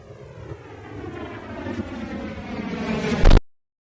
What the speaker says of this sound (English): Then I still need the sounds of the missile in flight.